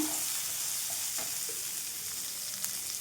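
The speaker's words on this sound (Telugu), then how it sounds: "ఇప్పుడు ఇందులోని మనం కట్ చేసి పెట్టుకున్న కొత్తిమీరను కూడా వేసుకుందాం." Tomatoes with chopped coriander fry in a pan, giving a constant bright sizzle with a few soft stirring scrapes over it.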